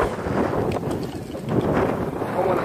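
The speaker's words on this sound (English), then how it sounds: "the wind is really blowing hard" Hard wind blows outdoors during a small drone flight, buffeting the microphone with a steady, dense low roar and no clear pauses.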